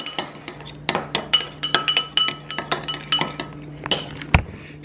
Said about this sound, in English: Give that a little stirry stir.